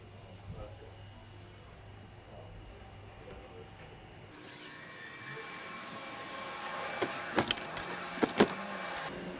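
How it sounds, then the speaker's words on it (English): Machine shop inside a bicycle parts factory that makes cranks, with a steady hum of running equipment that grows denser partway through, sharp metallic clanks and knocks near the end, and a voice talking under the noise. "This is the machine shop"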